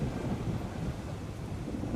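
Thunderstorm in the Planet Coaster 2 video game, with a low rumble of thunder rolling steadily under a continuous wash of rain throughout, no voices.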